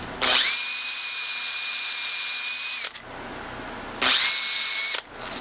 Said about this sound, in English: Come back with my drill that's got a 16th bit in here